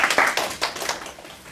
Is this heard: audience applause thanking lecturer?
yes